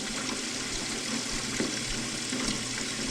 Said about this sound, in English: So we'll just fill this up, and I'll run the disposal